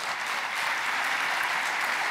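Steady, dense audience applause at a round-table conference on the school of tomorrow, sustained and fairly loud with no speech over it.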